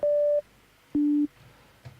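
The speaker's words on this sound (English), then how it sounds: "that's a sine wave. I'm just gonna play really low frequency" Two clean sine-wave notes from Ableton's Operator synth, played low as sub bass: a short pure tone, a brief gap, then a lower one of similar length, smooth and alone.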